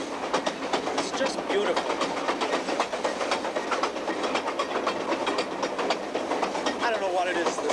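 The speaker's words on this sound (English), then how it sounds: "the sound, feel, the smell even of the diesel locomotive" Diesel locomotive train rolling along rails across Canada, a steady loud rhythmic clickety-clack with continuous rumble and hiss, while a voice speaks briefly over it.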